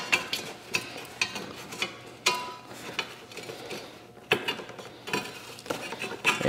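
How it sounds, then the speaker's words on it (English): A rubber hose being worked off the carburetor of an FSN 110cc ATV, with close, irregular clicks, scrapes and knocks of plastic and metal parts, sharper jolts near the middle and end, and no voices. "Get this hose off."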